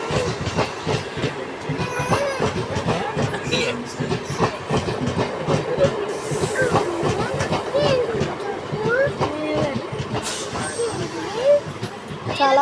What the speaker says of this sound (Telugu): మనం అలా వచ్చాక ఆ ట్రైన్ అయితే వచ్చేస్తుంది